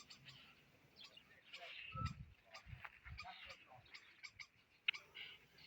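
Starlings call agitatedly near their nest hole in an apple tree in a village garden, sending out faint, scattered chirps and chatters, mixed with quiet background voices and farm noises.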